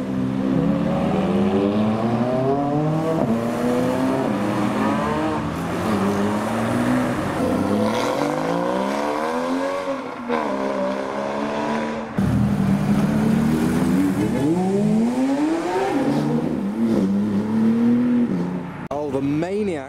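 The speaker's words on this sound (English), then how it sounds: "Kermit's leaving the show in his 997 GT3, which is apparently left-hand drive" A Porsche 997 GT3 pulls away from a Porsche car show, its engine loud and close as it revs through gears, with other cars and voices around it.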